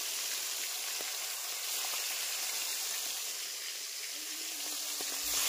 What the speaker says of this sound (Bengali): মাছটা ভাজি করছি